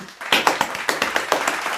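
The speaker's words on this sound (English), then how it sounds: "Clap hands for this babe." A small group claps hands close by in a quick, slightly uneven burst of sharp slaps, with no one talking over it.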